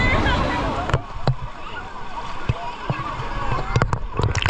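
Sea water sloshes and splashes at a beach with rolling waves, bursts of splashing scattered across the stretch while people talk over it.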